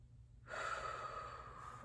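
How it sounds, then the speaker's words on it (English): One deep, airy breath drawn in close to the microphone, starting abruptly after a brief silence and holding steady to the end, soft and alone. "Let's take a deep breath in."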